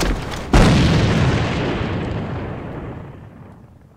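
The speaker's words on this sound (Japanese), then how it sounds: "手榴弾を使うぞ。" A grenade blast in the online shooter AVA, one loud boom hitting after a short quiet lead-in and then rumbling and slowly fading over several seconds.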